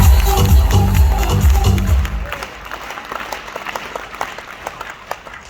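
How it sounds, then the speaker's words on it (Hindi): An audience at a motivational talk on earning money in India breaks into loud, dense applause that holds for about two seconds, then thins quickly into scattered, fading claps. "जोरदार तालियां होंगी।"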